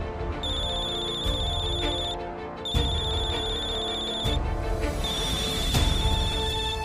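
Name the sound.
phone ringing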